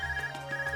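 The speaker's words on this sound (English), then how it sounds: "Is that your Arceus ringing?" An ARCUS communication device rings in the video game Trails of Cold Steel, a steady electronic ringtone with repeating pulsed tones, alone and fairly quiet.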